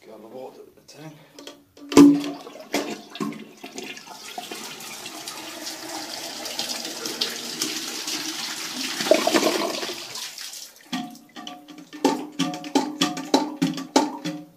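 A brand new Mansfield Alto toilet flushes with a sharp handle clunk, then a loud steady rush of draining water for about nine seconds before quieter gurgling and tank refill; someone talks over the start and the refill.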